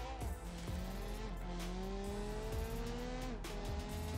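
Car tires squeal and skid in the driving game BeamNG.drive, a continuous loud screech with a steady engine drone beneath and rising and falling tonal sweeps.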